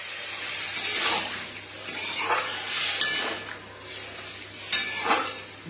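Water is added to frying curry in a pan, bringing soft pouring and bubbling sizzle with several swelling bursts and faint utensil clinks, moderately close.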